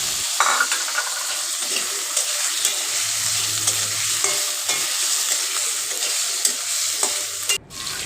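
Potatoes fry and are stirred in a pan for a Bengali fig (dumur) curry with shrimp flavor, a loud steady sizzle with scraping utensil strokes and a brief clatter near the end, no talking.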